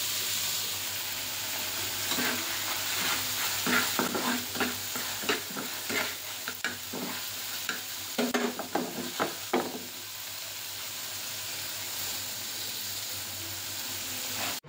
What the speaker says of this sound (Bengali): তো আরেক চুলায় আমি বুট ভুনা করে নিচ্ছি